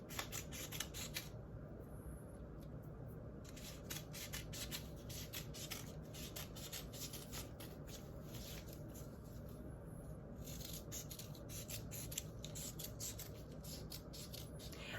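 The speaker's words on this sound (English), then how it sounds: "I cut this in 4 tails." Scissors snipping kinesiology tape into four tails, faint close rasping cuts in short clustered bursts over a quiet, steady background hum.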